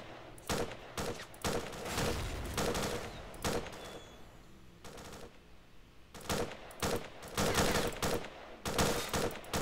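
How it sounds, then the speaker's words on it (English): Rapid bursts of automatic gunfire in the shooter game S.T.A.L.K.E.R., loud repeated volleys with short pauses between, a brief lull in the middle, no talking. "Quit shooting at the professor, you jerk."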